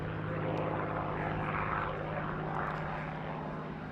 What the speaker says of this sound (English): there it overflies B-17 Sally B